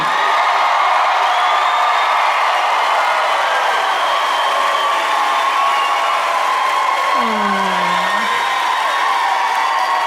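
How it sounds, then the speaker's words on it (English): A comedy show audience cheers and applauds in a continuous loud mix of clapping, whoops and shouts that holds steady throughout, with a brief lower vocal sound near the end. "that's very kind of you to cheer for that"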